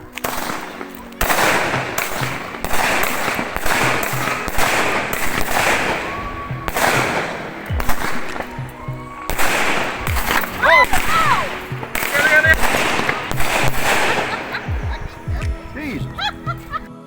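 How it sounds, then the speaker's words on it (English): Fireworks go off on Territory Day in a rapid run of sharp, loud cracks and bangs, some crackling, with voices and talk between the bursts. "being Territory Day, we had to buy some fireworks"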